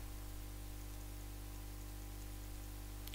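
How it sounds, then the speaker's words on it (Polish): Rain falling in the video game Terraria, a soft, even hiss of steady rainfall over a low hum, faint and unbroken for the whole stretch. "No i pada deszcz."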